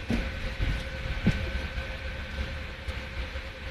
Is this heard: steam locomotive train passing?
yes